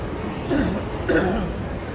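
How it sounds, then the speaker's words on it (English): A man clears his throat outdoors on a warm day while walking in Las Vegas, two short rough bursts about half a second apart, close and moderately loud against light street ambience. "Excuse me while I clear my throat,"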